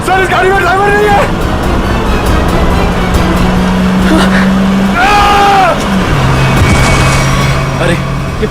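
A driverless taxi car moves along with a continuous engine and road hum, while excited voices talk loudly over it and a steady tone runs underneath.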